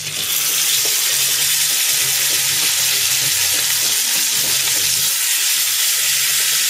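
Sous vide hakkebøf patties sizzle steadily in a hot pan, a dense continuous frying hiss with faint clinks and stirring underneath, close and loud throughout.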